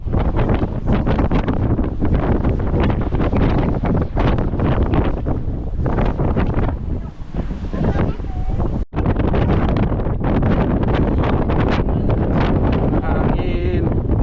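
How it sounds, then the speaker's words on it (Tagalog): Loud, gusty wind buffeting a microphone on Mt Tugew in Kayapa, Nueva Vizcaya, roaring continuously with a brief drop near the middle, while voices speak faintly underneath. "Hangin."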